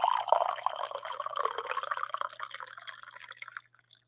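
Coffee pours steadily into a cup in a casual home setting, a close liquid stream with small splashy drips that thins and stops near the end, with no talking.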